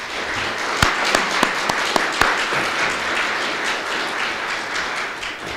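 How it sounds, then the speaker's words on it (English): A press conference audience breaks into a round of applause, with a few sharp, distinct claps near the start over steady, moderately loud clapping that carries on to the end. "Can we have a round of applause?"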